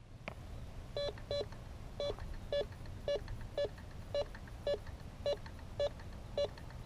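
A Bounty Hunter Tracker IV metal detector gives a series of short, evenly spaced target-tone beeps, about a dozen in a row, against a faint background hiss.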